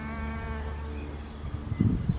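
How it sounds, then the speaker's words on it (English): A female hairy-footed flower bee buzzes close by inside a homemade clay bee hotel, a steady droning hum with harmonic overtones that fades slightly before a few louder knocks and rustles near the end. "That was a female hairy-footed flower bee."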